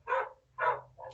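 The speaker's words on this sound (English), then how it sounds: "dogs are having a bickering session" Two dogs bark and squabble at a distance, probably outside, in two short bursts and then a third quieter one, with no talk over them.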